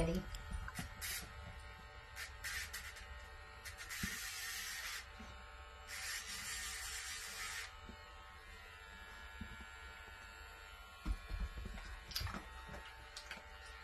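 A small rotary tool grinds a dog's nails with a steady electric whine, broken by a couple of harsher grinding bursts, while people talk throughout.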